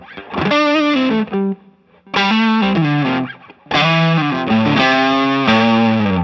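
An electric guitar played through an original Tube Screamer overdrive pedal rings out in loud, smooth, driven chords and sustained notes, three phrases separated by short gaps, with no talking.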